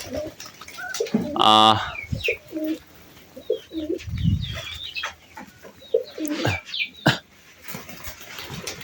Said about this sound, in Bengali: তো দেখুন সবগুলো কবুতর আসলে কেমন হুড় লাগিয়ে ফেলছে।